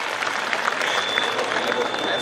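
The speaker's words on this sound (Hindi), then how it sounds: "तो ताली बजाओ जोरदार" Dense, continuous clapping from a room full of people at a school celebration for board exam toppers, sustained and fairly loud throughout.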